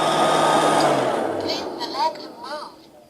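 A Liectroux B3000 robot vacuum cleaner runs with a steady high-pitched motor whine and broadband suction hiss close by, easing slightly in loudness as brief voice sounds break in near the end.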